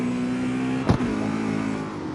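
A BMW's 4-liter V8 in the CarX Street racing game hums with a steady engine drone, then gives a brief sharp rev blip midway before settling back to a constant tone.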